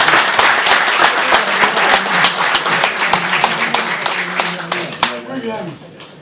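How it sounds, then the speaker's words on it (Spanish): Loud, dense audience applause closes an opera lecture in a conference hall, steady clapping throughout that thins toward the end as a voice begins speaking over it. "despedimos a Jorge con nuestro habitual aplauso"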